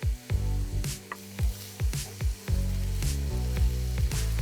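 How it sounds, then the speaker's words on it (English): Minced garlic and ginger sizzle with pork in a hot pan, sharp crackling bursts that pulse with stirring, then settle into a steady, louder fry. "add your minced garlic and ginger and saute just until they become fragrant"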